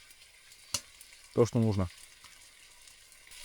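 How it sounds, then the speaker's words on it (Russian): A steak sizzles steadily in a pan on a small wood-burning stove in a winter forest, a constant soft hiss running throughout, with a brief clatter and a few spoken words partway through. "Боялся не пожариться стейк на кабанчике."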